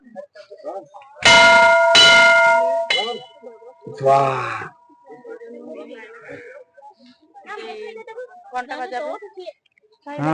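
A bell is rung by visitors on a trip in Kashmir, two or three loud ringing strikes with a lingering metallic tone, surrounded by people talking before and after.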